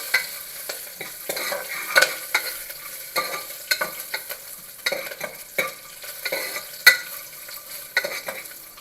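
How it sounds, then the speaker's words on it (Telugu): Green chillies and cashews fry in a pan while a spoon stirs them, giving a steady close sizzle broken by quick, repeated scraping strokes. "పచ్చిమిర్చి, కొన్ని కాజు, అంతే. ఇవి మంచిగా వేయించుకోవాలి."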